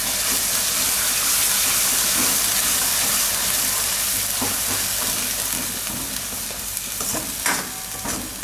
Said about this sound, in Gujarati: હવે આમાં આપણે પાલકની પ્યુરી નાખી દેવું. તો આને આપણે મિક્સ કરી લેવું આમાં.